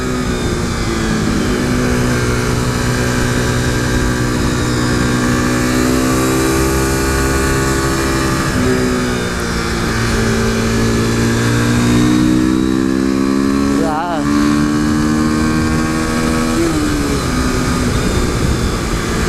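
A modified 2015 KTM RC 390 motorcycle engine heard while riding, a loud continuous drone that climbs and dips in pitch through gear shifts, with a brief break mid-ride where the revs drop and rise again.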